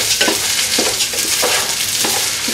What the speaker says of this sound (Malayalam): ഇനി അരിയും നെയ്യും കിടന്നിട്ട് ജസ്റ്റ് ഒന്ന് വറുത്തെടുക്കാന്ന് പറയും